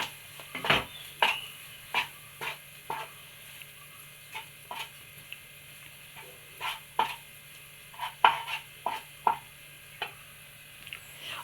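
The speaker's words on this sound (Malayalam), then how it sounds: "എല്ലാം കൂടി ഒന്ന് നന്നായിട്ടൊന്ന് മിക്സ് ചെയ്ത് കൊടുക്കണം" A mashed potato mixture being stirred in a bowl, with about a dozen separate scraping knocks of the spoon arriving in loose, uneven bursts. The sounds are close, modest in volume and have no talking over them.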